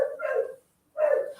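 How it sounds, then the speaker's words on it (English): Two loud barks from a dog nearby, separated by a short pause of silence. "Sorry for Harley barking, you guys. She wants breakfast."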